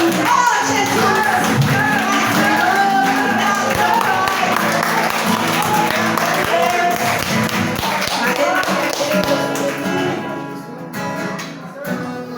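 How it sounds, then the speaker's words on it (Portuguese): A church congregation at a Portuguese-language worship service clapping and shouting, a dense, loud and continuous wall of claps, cheers and voices that thins out near the end. "Se você crê, grite, aplaude, exalte o nome do nosso Deus."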